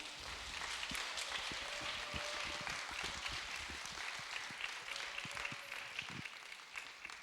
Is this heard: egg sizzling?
no